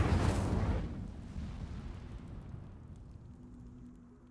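The Incendio fire spell in Hogwarts Legacy bursts out as a single loud whoosh. It fades into a rumbling, crackling roar that slowly dies away.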